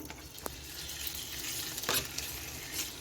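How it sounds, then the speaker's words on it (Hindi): Half a kilo of boneless chicken fries in hot oil, giving a steady soft sizzle with a few brief crackles and pops, moderately close and with no talk over it. "तो ये देखें अब हमने इसमें ऑयल डाल दिया है ताकि हम इसमें जो चिकन है उसको फ्राई कर लें।"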